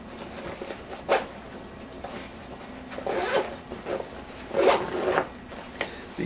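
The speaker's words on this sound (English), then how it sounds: "These zippers work really good." Three distinct zipper pulls on a tactical bag, each a quick rasping zip, spaced a second or two apart, close and fairly loud with quiet pauses between.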